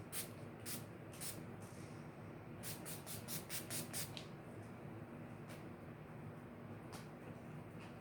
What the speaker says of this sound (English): Last but not least, setting spray. The best one probably in the drugstore. Just a quick spritz.